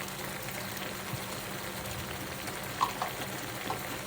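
Onions with turmeric, chilli, cumin and coriander powders frying in a pan for a chicken curry, a soft steady sizzle with faint crackles and a couple of small clinks, no talking.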